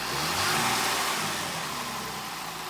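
A 2016 Jaguar XF with its 3.0L engine and a Mina intake kit revs hard close by, a sustained loud throaty roar that eases off slightly toward the end.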